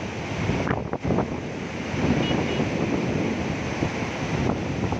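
The Mula River in Pune rushes continuously under a bridge, a loud steady roar mixed with wind buffeting the microphone, with no voices.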